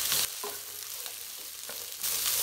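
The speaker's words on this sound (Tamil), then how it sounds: "இதெல்லாம் சேர்த்து நல்லா வதக்கி விட்டுக்கலாம்." Chopped beans, carrot and fresh green peas sautéing with onion in a pan for vegetable Maggi noodles, a steady sizzle with a few stirring scrapes and louder bursts at the start and end, no talk.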